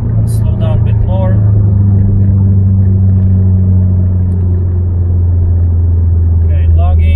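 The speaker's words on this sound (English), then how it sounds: "I'm gonna do a pull without the cutout. So muffler only." A Subaru STI with an EJ25 engine pulls hard in fourth gear through its muffler only, a steady loud low exhaust drone heard from inside the car, with someone talking over it.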